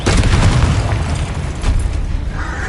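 A Confringo explosion spell in Hogwarts Legacy erupts in a deep, booming blast with crackling bursts, loud and close, settling into a lingering rumble.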